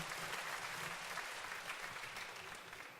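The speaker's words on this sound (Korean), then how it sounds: "영광의 박수 올리겠습니다." A church congregation claps together in thanksgiving to God after a closing prayer, a dense, steady applause that carries on throughout and eases slightly toward the end.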